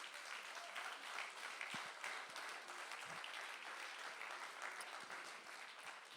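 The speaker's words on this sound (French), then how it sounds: "On va donner une main d'applaudissement à tous les visiteurs" A church congregation at a summer Sunday service applauds visitors and holidaymakers with sustained, even clapping from many hands, fairly distant and soft in level, with no talking over it.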